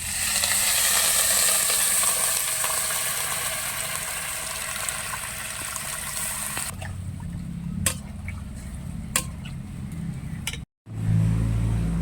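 Potato, soybean and water hit hot spiced masala in a pan, giving a loud steady sizzle that abruptly drops to quieter bubbling with a few sharp clinks and a brief gap.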